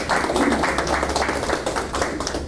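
An audience at an academic talk breaks into scattered, sustained clapping, dense and close, running through the whole moment with no voices over it.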